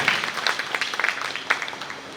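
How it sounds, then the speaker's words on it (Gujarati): Applause from an audience at a community elders' honouring ceremony in Anjar, steady dense clapping with a few sharper peaks, fairly close and with no talk over it. "તેમને પણ જોરદાર તાળીના ગગડા છે."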